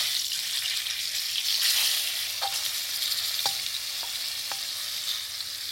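Chilean sea bass pan-frying for a teriyaki dish, a continuous bright sizzle with a few sharp ticks and pops spaced across the stretch, close and steady with no talking.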